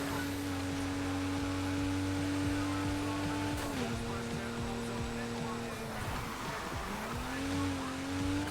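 A car engine roars steadily in a racing video game, its pitch dropping abruptly at a gear change midway and then climbing again as it revs up, with a constant loud whine throughout.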